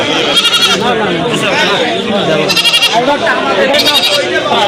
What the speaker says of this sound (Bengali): সব দেশি ছাগল।